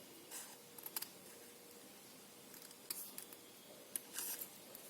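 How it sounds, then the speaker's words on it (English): Scissors snip small half-millimeter slits into crepe paper while making a paper flower's stamen piece: a few soft, crisp, scattered cuts, faint and close, with no talking. "First on one side just cut small slits about half a millimeter."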